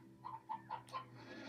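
Chickens in the video game Slime Rancher cluck in a short run of soft, evenly spaced bursts over a steady background hum, quiet and game-like.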